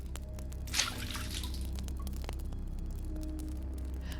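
Wet dripping and squishing like a sponge being squeezed, with water splattering onto a wood floor: a brief burst of spatter near the start, then scattered faint drips over low hiss.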